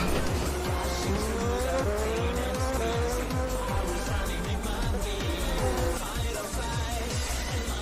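IndyCar race cars in the rFactor 1 racing game roar past in a steady stream, loud engine drone with repeated pass-by sweeps and tire squeal throughout, no talk.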